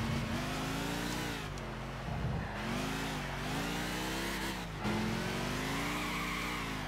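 A Ford GT supercar's engine revs hard and steady in Gran Turismo 6, a loud sustained drone whose pitch rises and dips through gear changes, with no talking.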